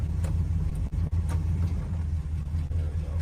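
A muscle car engine rumbles deep and steady while driving out on the road, loud and close with a heavy low-end drone and a couple of brief dips.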